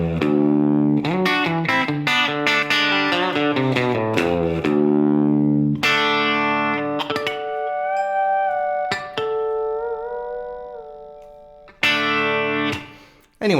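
A guitar lick in D rings out as quick distorted runs with a pull-off, then sustained bent notes and a final flurry, loud and upfront with effects-laden tone and no talking.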